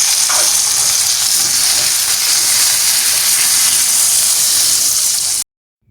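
Skin-down chicken sizzles in a little oil over medium heat, a bright, steady frying hiss close up that runs unbroken for about five seconds and then cuts to silence.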